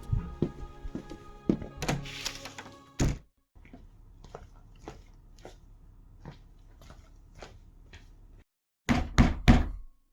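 Loud, heavy knocking and banging on a door comes in bursts: a cluster of thuds at the start, a run of lighter knocks, then a final rapid pounding.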